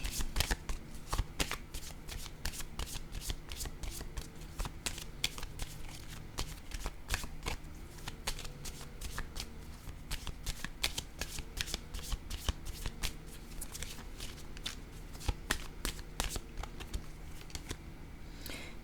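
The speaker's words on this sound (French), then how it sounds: "Je vais piger une autre carte." Playing cards riffled and handled in an almost continuous run of quick crisp flicks and snaps, close and fairly quiet, with brief pauses as cards are drawn.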